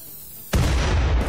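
Explosions go off in the colony-building video game RimWorld: a sudden loud blast breaks a quiet moment, then a sustained roaring rumble fills the rest of the moment.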